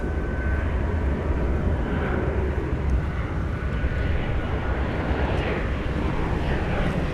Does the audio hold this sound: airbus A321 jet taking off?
yes